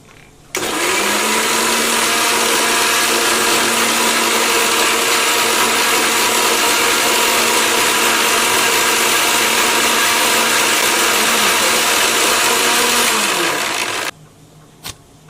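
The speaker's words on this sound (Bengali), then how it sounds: "আগে কলাটা ভালো করে মিক্স করে নেব" An electric blender whirs continuously for about fourteen seconds, mixing bananas with a little water for homemade lassi. The motor is loud and close, with a steady droning pitch that starts and stops abruptly.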